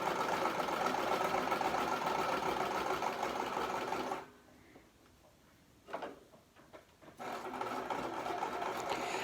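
A sewing machine runs steadily and close by, stitching around the edge of a reusable cloth pad. It pauses for a few seconds, gives a short burst, then resumes its continuous whirring hum.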